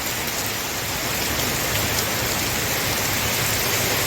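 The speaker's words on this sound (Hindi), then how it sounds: "कितनी तेज बारिश हो रही है," Heavy rain falling during a storm, a dense, loud, unbroken hiss of downpour close by with no pauses.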